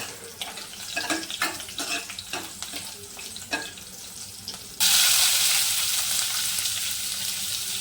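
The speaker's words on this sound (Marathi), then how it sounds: "आता याला व्यवस्थित फ्राय करून घेतो" Spiny gourd (kantola), a wild monsoon vegetable, cooks in a pan with cumin. A few light stirring knocks come first, then a loud, steady sizzle bursts in and holds close up to the end.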